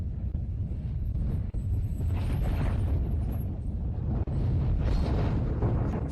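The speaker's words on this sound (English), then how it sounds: "The drone swarm was just blown up like fireworks." Drone swarm blown apart like fireworks in a fantasy battle, heard as a dense, continuous roaring rumble of blasts with crackling bursts swelling throughout, loud and close.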